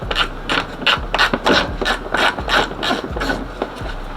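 A ratchet backs a bolt out of the wiper motor cover on an Oldsmobile Cutlass, giving close, steady bursts of rasping clicks, about ten quick strokes in a row, with no talking.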